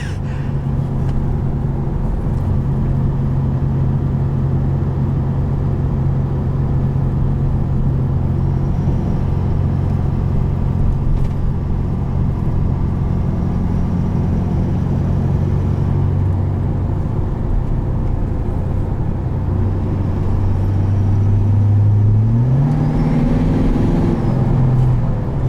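Tuned 2019 Ford F-250 Powerstroke diesel truck engine, a steady low rumble heard from inside the cab, swelling and rising in pitch as it accelerates near the end, no talk.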